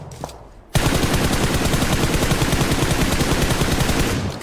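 Sustained automatic gunfire in the video game PUBG Mobile, a loud rapid string of shots bursting in abruptly and continuing for several seconds, close and dense with no talk over it.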